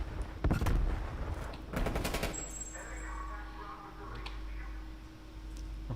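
Rapid SMG bursts from a competitive esports match crackle in quick rattling volleys during the first half, then give way to a steady background hum with faint game sounds.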